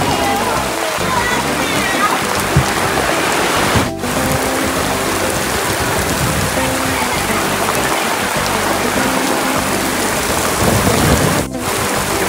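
Heavy rain pours down in a continuous loud roar, with a low rumble beneath and two brief dips in the downpour.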